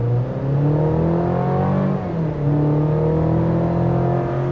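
A 2025 GMC Canyon AT4X pickup accelerates at full throttle, its engine holding a loud, steady roar with rising harmonics and a brief dip about halfway through, likely a gear shift. No one speaks.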